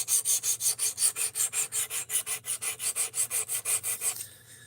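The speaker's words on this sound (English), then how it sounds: "I want to know exactly what angle I'm sharpening this at" A knife edge is drawn across a sharpening stone in a steady run of about twenty quick, evenly spaced rasping strokes, close and bright, stopping near the end.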